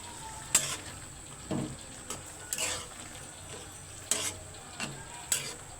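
Boiled taro flowers cooking with dried fish and tomato sauce in a pan give a faint low sizzle, broken by sharp clinks and scrapes of a spatula stirring against the pan.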